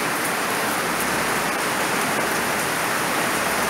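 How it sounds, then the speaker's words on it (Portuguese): Steady, dense rain pours down close by, a constant even hiss with no pauses and no talking. "Que chuva abençoada de meu Deus"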